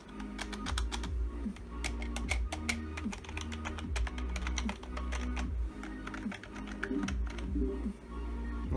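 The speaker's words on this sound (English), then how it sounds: "So the sound of the keyboard again." Steady typing on a Scorpion computer keyboard, with dense, fast clicking keystrokes and heavier clacks close to the mic that run unbroken for several seconds with no talk.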